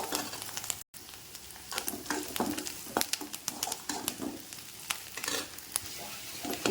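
Onions sizzle and crackle as they sauté in oil for a Tamil mutton curry, a dense popping fry with frequent sharp spits and occasional stirring, fairly close and without talk.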